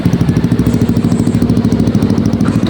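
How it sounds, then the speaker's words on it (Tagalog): A Yamaha Aerox 155 ABS scooter engine idling while warming up, a loud, close, steady low putter with an even rapid pulse and no talk. "Ato na lang ipaandar mga kayo sa turang ipainit ang makina para ready to"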